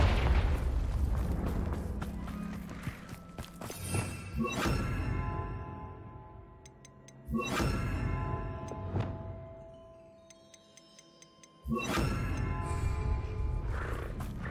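Three heavy booming blasts from a Confringo fire curse in the Hogwarts Legacy video game, each a loud low burst with crackling debris that rumbles and fades before the next, spaced several seconds apart with no talk.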